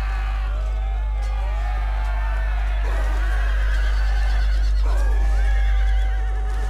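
Cavalry horses in the video game Empire: Total War neigh and whinny repeatedly, loud and close, over a heavy low battle rumble with hoofbeats and crowd noise.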